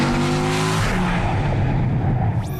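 A Dodge Viper with an 8.4-liter V10 engine roars loudly up close, a dense rumbling exhaust that shifts in pitch partway through with a hint of tire noise, ending in a brief rising whine.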